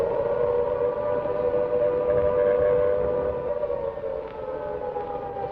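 Air raid siren wailing over wartime London during the Blitz, a steady sustained tone that sounds distant and carries alone throughout before easing slightly toward the end.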